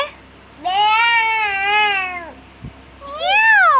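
A child imitates a cat's meow with two drawn-out, wavering, high-pitched cries, loud and close, separated by a short pause.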